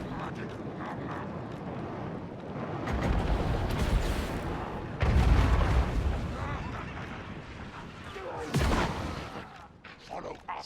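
Poison wind mortars firing in Total War: Warhammer, a Clan Eshin Skaven campaign battle, heard as a dense, rumbling barrage of booming impacts that swell around the middle, with someone talking over the din.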